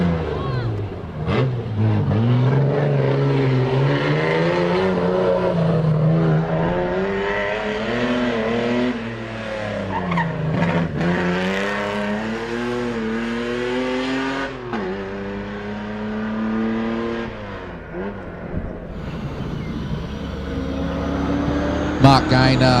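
Holden LH Torana race car at a hillclimb, engine revving hard with rising and falling pitch through gear changes, loud and close, swelling and fading as it powers up the course, with a commentator talking over it.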